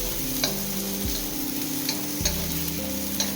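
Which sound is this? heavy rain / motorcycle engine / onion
onion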